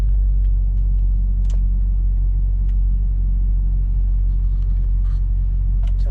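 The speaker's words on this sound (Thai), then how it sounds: "เราลองไปสตาร์ทรถดูครับโอ้สตาร์ทได้เลยครับ" A car engine idles after its battery was treated with a restoration fluid, giving a loud, steady low rumble that holds unchanged from start to finish, with a few faint clicks on top.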